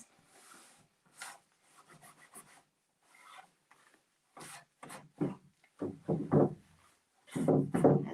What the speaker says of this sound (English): now I take my cloth and I wipe it back